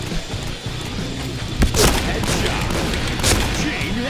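Dual-wielded shotgun blasts in the shooter game Point Blank, loud booming shots over steady game noise, with two sharp reports standing out among the gunfire.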